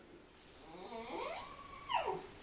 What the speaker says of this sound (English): And that was my dog in the background.